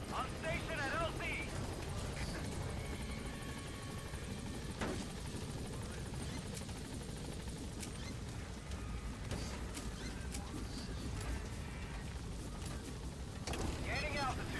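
A B-Quad helicopter in Metal Gear Solid V thrums continuously as it arrives at the landing zone, rotor noise steady and loud beneath radio-style voices and game sounds, swelling slightly toward the end.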